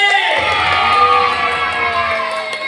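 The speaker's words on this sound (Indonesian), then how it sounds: "Tepuk tangan paling sampai teriak yeay" Children at an anniversary storytelling event clapping and cheering with shouts of "yeay", a loud burst of crowd noise and high voices that holds strong throughout and tapers slightly at the end.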